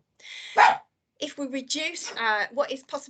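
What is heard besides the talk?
dog barking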